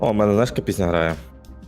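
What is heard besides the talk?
No everyday noise stands out behind the speech.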